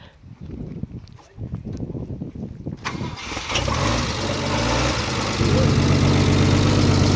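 An engine cranks and catches after a few seconds of quieter background clatter, then settles into a loud, steady close-up idle that deepens and grows fuller toward the end.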